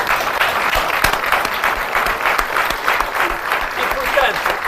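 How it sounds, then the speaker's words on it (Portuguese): Studio audience on a Portuguese SIC television show applauding, a loud, continuous mass of clapping sustained throughout, with a voice talking faintly beneath it. "Um aplauso."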